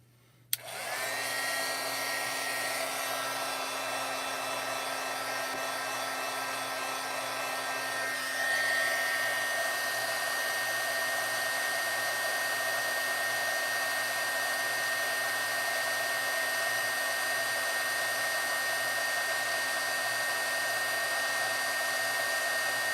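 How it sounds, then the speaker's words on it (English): A heat gun switches on with a click and then runs steadily, a loud continuous blowing whir with a high whine that holds for the rest of the clip, with no voices. "I'm going to turn my heat gun on and let it heat up a few moments."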